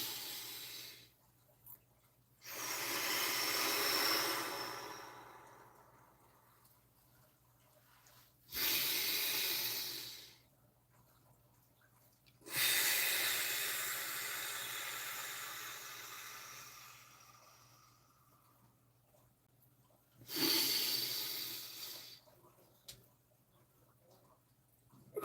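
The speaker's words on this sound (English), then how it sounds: "let's take some deep breaths" Slow, deep breaths in a guided breathing exercise: three long, airy breathy swells separated by quiet pauses, close and soft with no talking.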